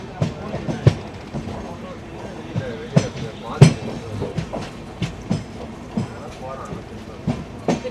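A passenger train runs from Chennai to Chengannur, its wheels beating out an irregular clickety-clack over rail joints with a loud, close rumble heard from inside the carriage.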